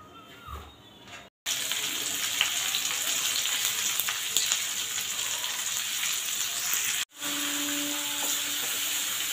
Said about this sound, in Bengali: এই পেঁয়াজটা এই তেলের মধ্যেই দিয়ে দেবো।